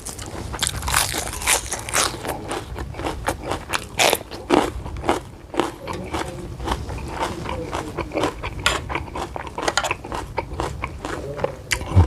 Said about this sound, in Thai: หนังครับหนังมันกรุบกรุบดี